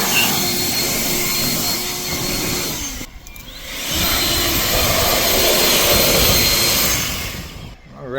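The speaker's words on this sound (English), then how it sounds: "Just a nice handy blower that you can keep in the cab with you." A handheld air blower roars steadily, blasting debris out of a plugged tractor radiator. The loud, broadband rush dips briefly partway through, then returns just as strongly before cutting off.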